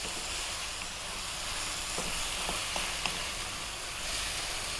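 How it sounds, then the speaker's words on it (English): Bean sprouts and chili stir-fry in a hot pan for a seafood noodle soup, giving a steady soft sizzle and hiss with a few faint taps of stirring, no talking. "stir frying this around"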